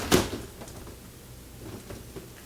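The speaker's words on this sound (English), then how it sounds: "Now this private toilet area door, it can open up, locks in." A private toilet-area door in a 2010 Forest River Georgetown 378XL motorhome opens with a single sharp close knock or latch click, followed by faint rustling and small thuds in a quiet interior.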